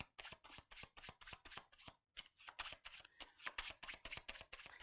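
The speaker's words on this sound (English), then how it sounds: "We give them a little cut, we give them a little shuffle." Cards riffle repeatedly in quick, crisp bursts, a short pause, then more brisk shuffling close by.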